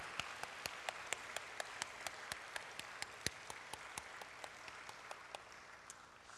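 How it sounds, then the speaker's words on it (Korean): Church congregation applauding at a Sunday worship service, sparse individual claps at a steady pace, quiet and somewhat distant in a reverberant hall, heard alone without talk. "우리 한번 격려의 박수 한번 해드리겠습니다"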